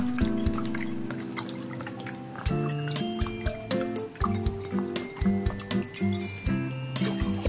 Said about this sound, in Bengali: পুরো ডাবল জল নেব। এক বাটি, 2 বাটি আর এই 3 বাটি।